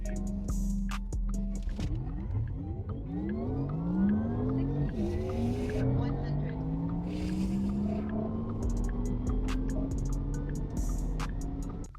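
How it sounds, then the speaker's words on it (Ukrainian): A facelifted Porsche Taycan 4S launches from a standstill in Sport Plus mode with launch control. Its electric drive whine sweeps upward steadily over several seconds with muffled cabin road noise, and a few brief clicks and knocks stand out. "Просто переводити автомобіль в режим Sport Plus педаль гальмування, педаль прискорення обидві в підлогу, відпускаєте і полетіли."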